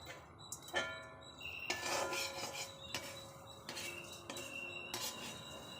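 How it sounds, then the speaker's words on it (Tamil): Tamarind roasts in a pan as a metal utensil scrapes and clinks against it in repeated close strokes, with a rough rasping texture and no voices. "அடுத்து புளி போட்டு வறுத்துடலாம்"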